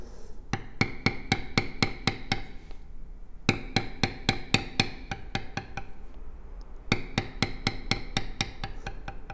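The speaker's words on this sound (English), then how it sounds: "we're going to start by beveling that line out" A leather beveler tool tapped with a mallet while tooling a belt pattern: three runs of quick, evenly spaced sharp knocks with short pauses between them, close and distinct, with no voices.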